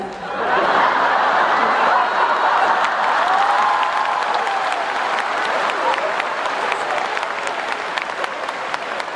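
A large concert audience applauding for several seconds in a steady, dense roar of clapping, with scattered chuckles and laughter mixed in.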